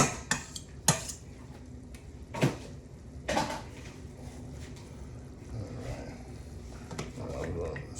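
A metal spoon clinks and scrapes against a pot while tomato paste is stirred into marinara sauce, several sharp knocks early followed by softer, continuous scraping at close range.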